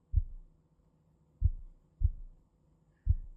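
A tiny soft drum thumps four times in a slow, uneven rhythm like a heartbeat, each beat a deep, muffled boom that fades quickly into quiet.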